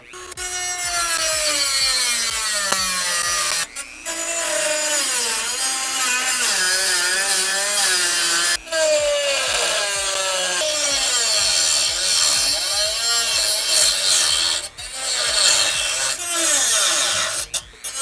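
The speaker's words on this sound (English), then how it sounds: "whenever you're using a Dremel, you want to have the proper safety gear on" A Dremel rotary tool working on a badly damaged gaming PC, a loud, close, continuous high whine with shifting pitch as it bites into the material, cutting out briefly a few times.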